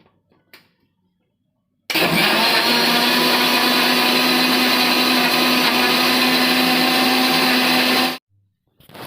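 A kitchen blender whirs loud and steady for about six seconds while blending a banana shake, starting and stopping abruptly with near silence before and after.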